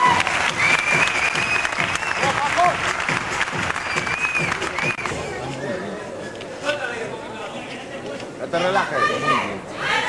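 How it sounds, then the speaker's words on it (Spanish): A crowd at a 1997 bodybuilding championship in Madrid claps steadily after a posing round, with chatter and a spoken voice mixed into the dense, continuous applause. "Un aplauso."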